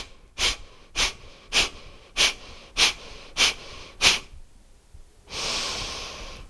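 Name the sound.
deep inhale in yoga breathing exercise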